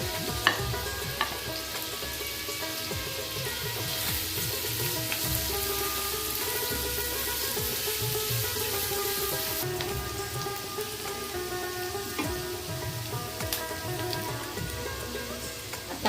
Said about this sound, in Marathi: आपण कांदा घालून गुलाबी रंगावर